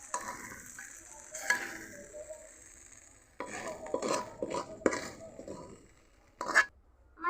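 Chicken egg roll filling thickened with cornflour slurry is scraped and poured out of a pan, with soft stirring scrapes and clinks of utensil on metal in quiet bursts, alone.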